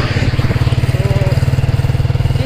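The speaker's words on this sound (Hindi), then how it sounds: "बाइक बहुत स्पीड से चला रहा है यार ये बंदा" A motorcycle ridden fast on a mountain road in Gilgit-Baltistan, its engine giving a loud, close, steady rapid pulsing throb throughout, with no speech over it.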